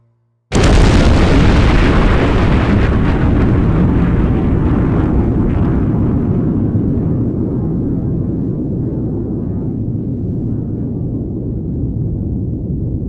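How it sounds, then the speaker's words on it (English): A loud explosion in the PlayStation game OverBlood 2, with a sudden sharp blast that erupts into a long, heavy roaring rumble and slowly fades over many seconds. "there's been an explosion in Sector C"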